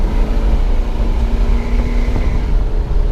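A 1976 Chevy C20 Cheyenne pickup truck engine roars steadily as it kicks down and accelerates hard, a loud close drone with a rising tone, no talking.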